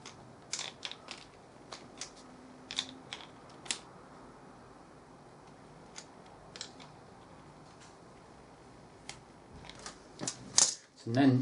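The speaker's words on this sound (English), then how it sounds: "so we'll adjust our torque wrench." Torque wrench being adjusted during a clutch overhaul on a Triumph Tiger 800XC motorcycle: scattered small ratcheting clicks, some in quick pairs, over faint background noise, with sharper clicks near the end and a voice talking.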